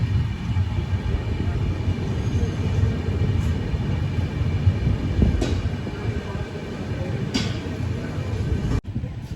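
The Asarva–Kota Express rumbles steadily at Himmatnagar Junction railway station, a continuous loud rolling drone with a few sharp metallic clanks.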